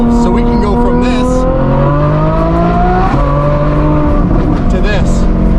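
Ferrari F12 V12 revving through an FI Exhaust system with the valves closed, a loud, continuous engine drone with rising and falling pitch as the revs climb, heard up close with no talk over it.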